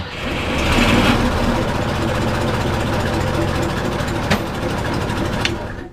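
Mercedes Unimog 404 engine settling into a steady, rapid idle after starting, a constant low mechanical chug with a couple of sharp clicks, fairly close and alone.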